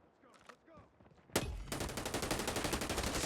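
Heavy, dense gunfire in the shooter game Call of Duty Mobile follows a sniper engagement, starting with one sharp crack and then running as a rapid, continuous automatic burst. A voice talks faintly just before the shooting.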